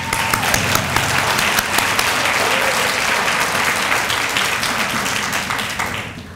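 Sustained applause from a seated audience at a health sciences recognition ceremony, many hands clapping in a dense steady roar that holds throughout and tapers slightly at the end.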